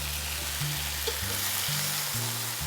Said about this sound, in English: let's go add the meat that is already very nice colored